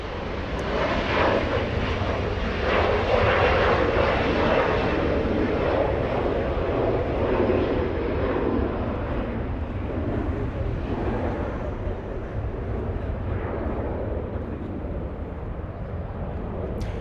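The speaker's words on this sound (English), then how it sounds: "Alaska SkyWest 3342 flying to San Francisco. This one a little Embraer E175." Alaska SkyWest Embraer E175 jet departing LAX bound for San Francisco, a loud broadband roar that swells early then slowly fades as it climbs away.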